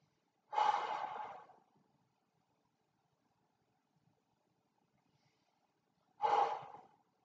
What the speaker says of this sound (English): Good breathing.